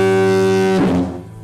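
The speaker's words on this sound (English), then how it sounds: "the foghorn capable of bellowing a warning" A lighthouse foghorn on an island in San Francisco Bay gives one loud, deep, bellowing blast that cuts off abruptly and leaves a short decaying echo.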